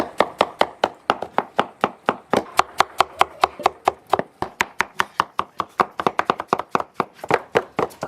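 Blanched, peeled persimmons being chopped with a cleaver for persimmon jam, a loud, fast run of sharp blade strikes on a board in steady bursts, close and alone.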